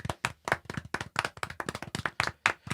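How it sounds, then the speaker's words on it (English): A small group claps in a short round of applause, distinct sharp hand claps in an uneven patter, close and alone without talk. "Little round of applause."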